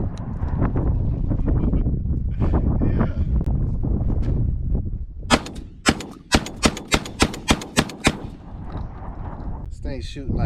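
A Mossberg 940 JM Pro semi-automatic shotgun fires a rapid string of about ten loud, sharp outdoor shots, following a stretch of muffled handling and wind noise.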